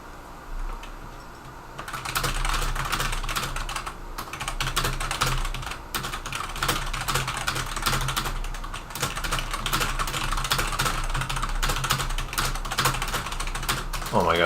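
Fast typing on a computer keyboard during a blindfolded 11x11 puzzle attempt, dense rapid clicking that runs almost continuously, close and steady.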